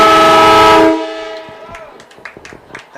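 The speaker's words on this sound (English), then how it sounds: "That train horn never gets old." A loud, close train horn celebrating a high school girls' soccer goal sounds a sustained chord for about a second, then cuts off into scattered crowd noise and a few people talking.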